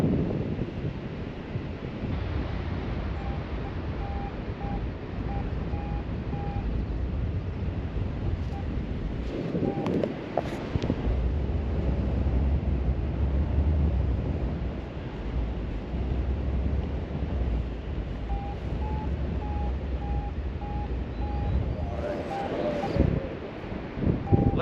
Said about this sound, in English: Get a bit of a south wind today.